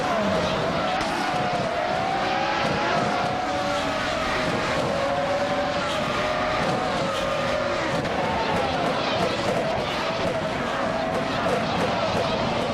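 Race cars roar and whine around a circuit in a video game, with engine tones rising and falling in continuous, overlapping passes and the occasional tire squeal, loud and steady throughout.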